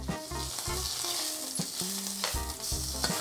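An Ibérico pork steak frying in a pan with a little oil, a steady crackling sizzle close up with intermittent low knocks and scrapes from the pan, no voices.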